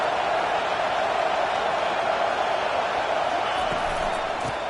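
Football stadium crowd roaring on a third-down defensive stand, a dense, steady wall of massed voices and cheering that holds loud throughout without clear individual calls.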